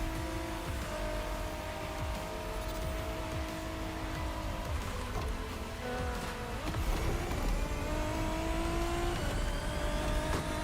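Race cars in The Crew Motorfest roar continuously in a dense, layered engine drone with revving and shifting pitch, and a brief tire squeal stands out near the end; the sound is loud and steady throughout, with no voices heard.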